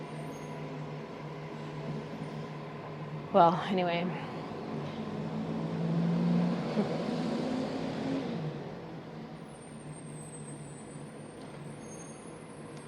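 Garbage trucks passing on a hot city street, a low rumbling engine swell that builds and fades over several seconds with a brief hiss near the start, heard behind a woman's nearby speech.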